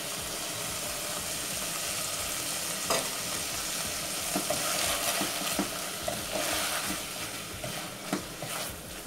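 Beef for stroganoff frying in a pan with chopped parsley and chives stirred in, a loud, continuous sizzle with occasional scraping clicks from the spoon.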